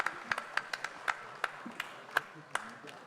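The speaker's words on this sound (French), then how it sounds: "on peut les applaudir" Sparse, scattered claps from a small audience at an awards ceremony as architects are called onstage, a dozen or so distinct hand claps spaced irregularly over low room noise and faint talk.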